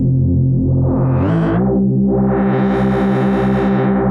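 Reese bass patch in Serum 2 with its filter cutoff swept open, a loud, thick detuned synth bass that brightens into a harsh, buzzing, distorted tone after a brief dip, held continuously with no voices.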